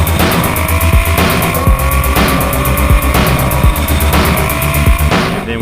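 A race car driving hard through a OneLap of America autocross course, its engine loud and close and rising and falling in repeated surges with no talking.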